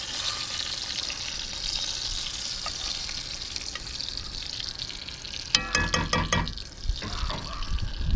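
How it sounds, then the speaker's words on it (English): Catfish frying in hot grease outdoors, a steady loud sizzle and crackle throughout, with a burst of clattering handling noise near the end. "Bring me that fish and I'll cook him. I got the grease hot."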